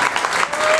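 Audience applause at an awards presentation for a band, a brief dense patter of clapping filling the moment with no pauses.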